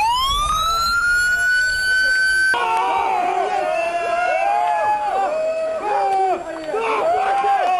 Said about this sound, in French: c'est effectivement un klaxon qui se situe, une sirène qui se situe dans l'eau